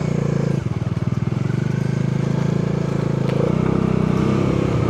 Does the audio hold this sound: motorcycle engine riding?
yes